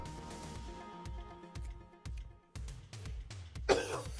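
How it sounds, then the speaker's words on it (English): Several harsh coughs and throat clearings from a sick person who has been smoking, coming in short bursts about every half second over faint background music, with a louder hacking cough near the end. "I'm sorry, the coughing."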